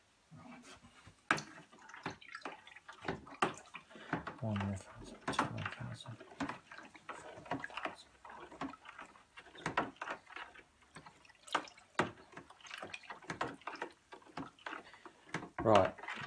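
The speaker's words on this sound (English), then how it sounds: "So we've got to stir that for 10 seconds." White zinfandel wine kit must is stirred in a home brewing vessel for about ten seconds, with irregular liquid sloshes, drips and knocks of the spoon close by, under intermittent talking.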